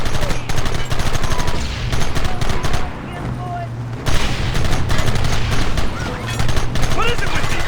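Dense, continuous gunfire from a shootout in Red Dead Redemption, rapid overlapping shots with a brief lull midway, loud and close throughout.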